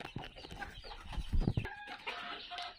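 Fayoumi chickens on a farm cluck softly in short, uneven bursts, a faint nearby flock with no talk over it.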